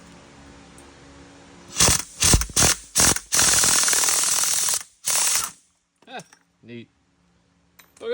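Impact wrench tightening the bolt on a suspension puller for a 1963 Impala front end, several loud rattling bursts of hammering ratchet, one long run and a final short one, then quiet with faint clinks.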